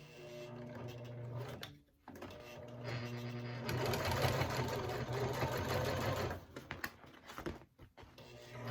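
A domestic sewing machine top stitching a bag runs in a steady, close mechanical whir. Short pauses break it, and the motor speeds up through the middle before slowing to stop-start bursts.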